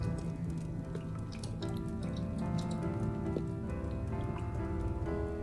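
Water drips steadily in a beach cave in the video game Creativerse, scattered small plinks over a low background hum, with no talk.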